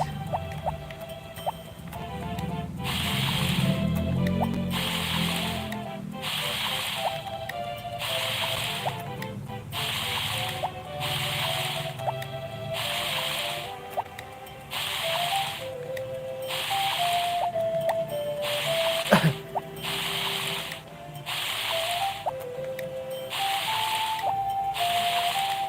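Watering-can splashes in the farming game Harvest Moon: Back to Nature repeat in a regular rhythm, about a dozen short hissing sprays over quiet background music, no talking.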